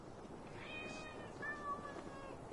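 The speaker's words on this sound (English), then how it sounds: "the damn cats won't be quiet" Several cats meow faintly indoors, a few short rising and falling calls scattered over a steady background hiss, with no voices.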